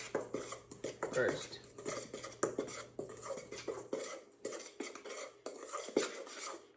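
Batter being mixed by hand in a bowl for cornbread, a utensil clattering and scraping against the sides in quick irregular strokes, close and fairly loud, with a brief spoken word.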